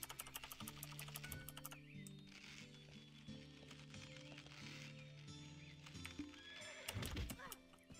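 A horse in the online game Black Desert Online trots with hooves against a backdrop of sustained game music, then rears with a loud, close whinny near the end, and brief speech slips through the mix.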